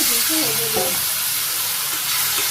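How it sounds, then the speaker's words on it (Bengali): Potatoes tossed and sautéed in hot oil with cumin seeds for a village-style fish and chicken meal, a continuous loud sizzle with scraping stirs, and a brief voice murmuring near the start. "কষে এমনি সুন্দর করে আলুগুলো ভালো করে সুন্দর করে কষিয়ে নিলাম"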